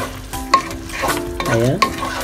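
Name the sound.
stirring blanched vegetables into pinakbet in pan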